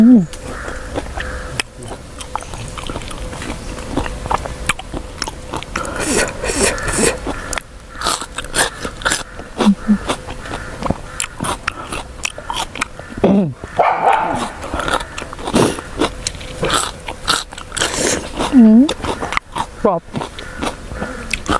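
Crunchy bites into shrimp soaked in fish sauce, served with a spicy seafood dipping sauce, come as repeated close, crisp crunches and chewing while a person talks throughout.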